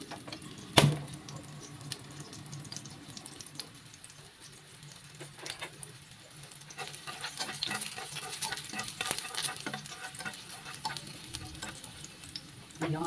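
Whole garlic cloves fry in a pan with a close, bubbling sizzle of dense crackles and pops, swelling in intensity over the stretch, after a sharp knock near the start.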